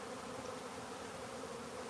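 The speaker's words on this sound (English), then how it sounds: "You're getting a chance to see an active live swarm catch." A live swarm of honeybees being caught from two massive hives fills the air with a dense, constant buzzing drone that is close, steady and unbroken, with no talk.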